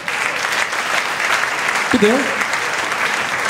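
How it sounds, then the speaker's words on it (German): Audience at a live German comedy show applauds steadily throughout, a dense, even wash of clapping with a brief spoken word from the stage partway through. "Applaus für die schönste Frau im Saal."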